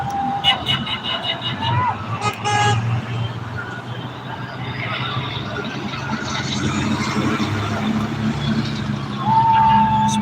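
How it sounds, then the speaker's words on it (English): Car horns toot repeatedly from passing traffic at a roadside flag wave on Patriot Day in Oregon City. Short beeps and a longer honk sound over steady engine and road noise, and people talk nearby. "Listen to all the beautiful horns."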